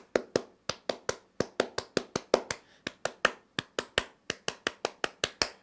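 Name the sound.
group doing a Pramuka scout clap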